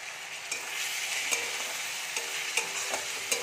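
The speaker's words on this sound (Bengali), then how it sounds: "এবারে যে মশলাটা আমি পেস্ট করেছিলাম আদা রসুন আর টমেটো পেস্টটা দিয়ে দেব।" Ginger, garlic and tomato paste sizzles steadily in a pan with fried onions, a constant close hiss broken by a few light stirring scrapes and clicks, with no voices.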